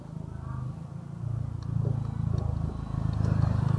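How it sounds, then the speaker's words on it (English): A motorcycle engine hums steadily close by on a neighborhood street, growing slightly louder over a few seconds, with some light clatter and road noise. "Let the motorcycle pass."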